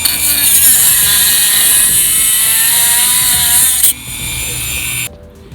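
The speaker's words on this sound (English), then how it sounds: "These little centering tabs you can either cut with a hacksaw or a cutting wheel or whatever." A power tool, such as a cutting wheel, grinds off the small metal centering tabs under a 2019 Sprinter van seat, giving a loud, steady high-pitched whine that drops in level near the end and then stops.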